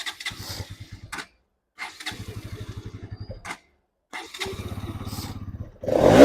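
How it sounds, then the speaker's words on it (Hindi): An old-model Bajaj Pulsar NS200 motorcycle cranks in three separate starter bursts with short pauses between, each a rapid chugging rattle, until the engine catches and rises at the end. "स्टार्ट कर लेते हैं।"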